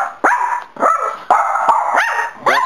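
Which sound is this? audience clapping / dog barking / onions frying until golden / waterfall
dog barking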